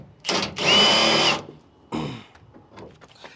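A power tool spins a 15 mm socket to back out the factory leveling kit bolts on a 2023 Ford F-150: a loud, steady whirring burst about a second long, then a shorter second burst, with light clinks between.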